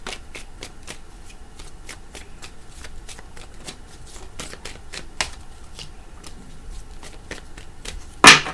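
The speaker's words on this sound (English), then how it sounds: "I'm going to give it 3 shuffles and then I'm just going to lay cards." A tarot deck is riffle-shuffled in quick repeated bursts of crisp card flicks, close and fairly loud, ending in a sharp loud knock.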